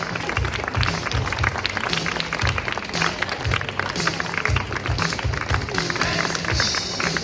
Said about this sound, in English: So, just a big round of applause.